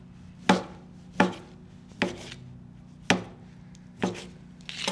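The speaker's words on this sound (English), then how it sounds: "We're just gonna chop them into bite-sized pieces" A knife chops sausages into bite-sized pieces on a board during a keto meal prep, six sharp, evenly spaced thuds sounding close and alone over a quiet background.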